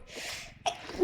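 A single sharp sneeze comes up close after a brief intake of breath, followed by a short voiced sound right after.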